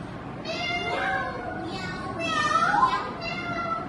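Several children's voices imitate a cat, drawing out loud meows in a few overlapping bursts, with chatter and classroom noise around them.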